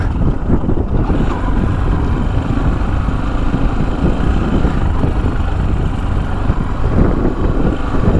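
A Chinese motorcycle rides a rough dirt road through hunting grounds, its engine a steady, loud drone mixed with heavy wind buffeting across the whole stretch.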